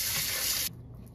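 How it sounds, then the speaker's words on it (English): Tap water runs over oxtail meat being washed in a bowl, a loud close hissing stream that cuts off abruptly after a moment, leaving faint clatter. "you're really just gonna get in there, wash the meat"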